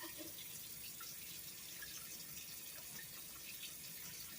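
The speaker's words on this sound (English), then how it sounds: "Alright, let's lather it up." Tap water runs steadily into a sink while a bar of soap is lathered under it, a constant soft rushing wash that stays even throughout with no voices.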